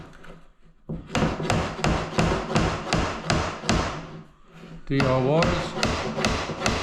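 A hammer drives a nail into a wooden door architrave with a quick run of sharp, evenly spaced knocks, close and loud, with a brief word spoken partway through.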